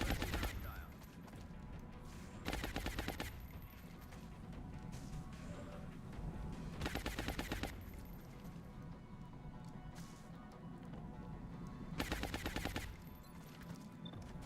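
Bursts of rapid suppressing gunfire from the turn-based video game XCOM Long War arrive in four separate volleys a few seconds apart, crisp and loud over a low background hum, with brief speech between them.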